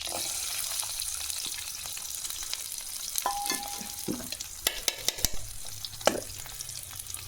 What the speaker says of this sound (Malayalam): ചെറിയ ഉള്ളി അതിലേക്ക് ഇട്ട് കൊടുക്കുക.